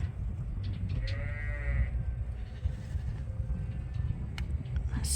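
Sheep on a pasture farm bleat a few times, wavering calls at moderate distance rising over a low steady rumble, with a fainter bleat later on.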